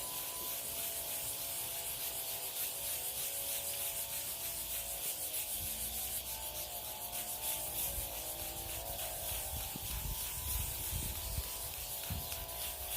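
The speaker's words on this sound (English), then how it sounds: "That's why we're trying to sand that bubble out" Sanding a polyurethane coating bubble on a wooden picnic table makes a steady, close, continuous abrasive rubbing that holds for the whole stretch without pause or speech.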